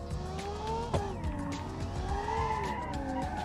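A car in BeamNG sliding into oversteer, its engine droning with shifting pitch while tires squeal and skid in long wavering tones, close and continuous.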